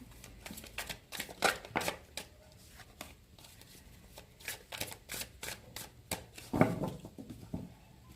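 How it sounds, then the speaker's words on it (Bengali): A deck of tarot cards being shuffled by hand, giving repeated crisp riffling bursts and soft card slaps in an irregular rhythm, close and clear, with no talking. "আবার একবার করে সাফল করে নিতে হয়"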